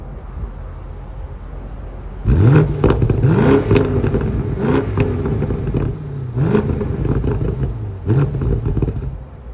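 A 2023 BMW M550i xDrive V8 sports sedan revs up sharply several times in a row, the exhaust note rising and falling with each throttle blip, loud and close.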